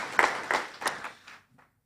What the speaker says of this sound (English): I believe we should give a round of applause to our patron